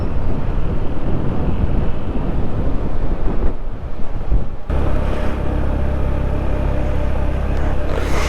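Water overflowing the top of a dam in Teetwal village at the Line of Control churns with a steady, heavy rushing roar, broken by a brief dip before the roar resumes at full strength.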